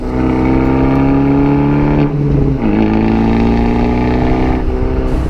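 An Abarth 124 Spider with the Record Monza exhaust roars loudly and up close. The engine drones steadily, dips briefly as if shifting gear, then climbs again, and the exhaust rasps throughout. There is no talking.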